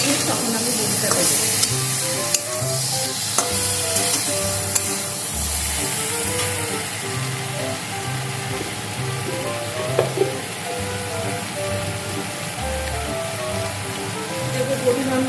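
Bitter gourd and vegetables for Bengali shukto sizzling loudly in a pan, a dense crackling fry with scattered stirring clinks and a faint background tone.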